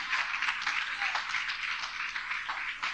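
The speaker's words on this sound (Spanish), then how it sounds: "Denle un aplauso al Señor." A church congregation applauds during a sermon: a steady, dense wash of clapping that holds at an even level for the full three seconds, with no voices heard over it.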